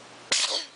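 A child sneezes once, abrupt and close, the loud burst trailing off quickly into a quiet indoor room.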